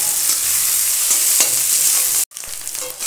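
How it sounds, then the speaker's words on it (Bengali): Boiled snails sizzle with onions in a hot pan, giving a loud, dense crackle with stirring scrapes, a sudden brief break, then frying that resumes a little quieter. "পেঁয়াজের সাথে সেদ্ধ করে রাখা শামুক ভেজে নেব।"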